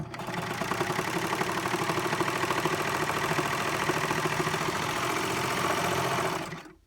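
A Baby Lock Celebrate serger stitching ribbing onto a shirt collar runs steadily at high speed, a fast even whirring chatter, close and continuous before stopping abruptly.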